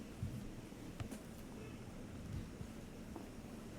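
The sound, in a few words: heavy rain with thunder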